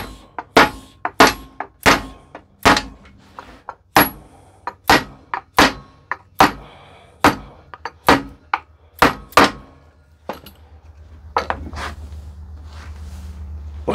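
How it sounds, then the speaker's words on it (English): Wooden wine glass rack bottle topper pieces tapped down against a clamp, about fifteen sharp close knocks in an uneven rhythm, followed by a low rumbling hum as the tapping ends. "Tap them down against the clamp."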